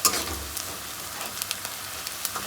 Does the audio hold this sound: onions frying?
yes